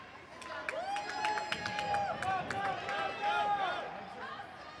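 A crowd at a hockey game cheers, chatters and whistles steadily in a large arena, the noise swelling and fading over a few seconds.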